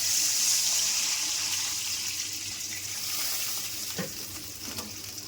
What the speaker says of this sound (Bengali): এবার পরিমাণ মতো জল দিচ্ছি।